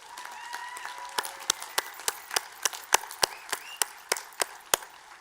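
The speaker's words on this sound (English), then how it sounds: "Will you please join me in a round of applause to recognize them?" Scattered applause for faculty and staff at Hood College's 2021 undergraduate commencement, a thin string of individual claps at an uneven pace, faint and distant with little crowd swell.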